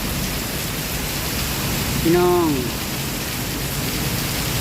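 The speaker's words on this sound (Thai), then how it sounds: "โอ้ตอนนี้ฝนตก" Steady, heavy downpour hisses loudly on Bangna-Trat Road near Suvarnabhumi, Thailand, and someone speaks briefly partway through.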